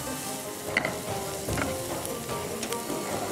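Food sautés in a hot pan for potato balls with a steady close sizzle, broken by light clinks of stirring.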